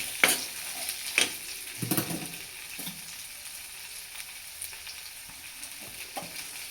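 Drumstick pods (shevga) frying in oil with salt, curry leaves and coriander, stirred with intermittent scraping strokes over a soft, quiet sizzle, no voices.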